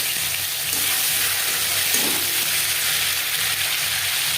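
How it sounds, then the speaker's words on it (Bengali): Ginger paste and green chili paste hit hot refined oil in a pan, giving a continuous loud, close sizzle and frying hiss with a brief stirring scrape partway through, and no voices. "3 চামচ রিফাইন্ড অয়েল গরম করে নিয়েছি। দিয়ে দিলাম আদা বাটা,"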